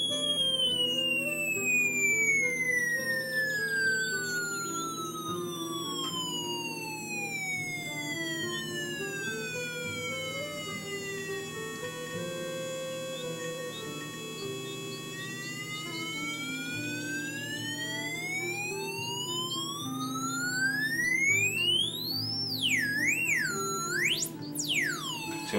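Hand-operated electronic sound-effect generator sweeping steady sine-like tones up and down, gliding whoops and chirps that mimic siren and alarm calls, continuous and fairly loud with rapid warbling rises near the end and no talking.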